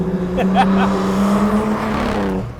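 HWA EVO restomod's engine revving, a smooth rising and falling tone heard from inside the car, with someone talking over it.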